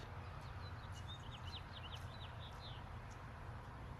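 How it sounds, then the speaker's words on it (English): Faint high chirps and tweets from small birds flutter in short bursts over a low, steady background rumble. "I can hear birds chirping."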